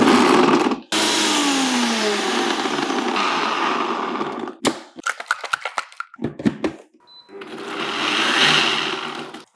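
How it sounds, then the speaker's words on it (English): A Nutriforce extractor blender pulses food into breadcrumbs, loud whirring bursts of grinding with brief pauses, followed by a run of short choppy pulses and a final sustained spin, no talking. "I am going to be using my Nutriforce extractor. It's pretty much a blender, but it also grinds"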